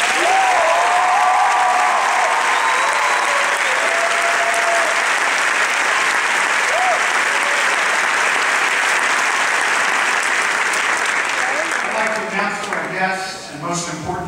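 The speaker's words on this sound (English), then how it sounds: "Let's give her a round of applause." Audience applause at a Catholic high school graduation ceremony, sustained dense clapping with scattered cheers, tapering off near the end as a speaker begins talking.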